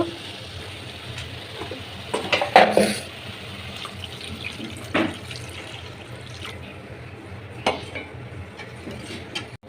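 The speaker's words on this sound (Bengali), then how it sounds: "এখন জল দিয়ে দেব" Water poured into a pan of fish curry simmering with tomato and spices, a soft splashing pour followed by scattered clinks of utensil on pan, close and moderately loud, no talk.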